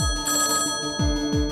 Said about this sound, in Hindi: मैं फोन उठाने आई थी।